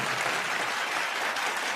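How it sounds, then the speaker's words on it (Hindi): Audience applause at a live comedy show, a steady dense clapping from a crowd that holds evenly throughout. "मैं चाहूंगा एसपी साहब के लिए जोरदार तालियां"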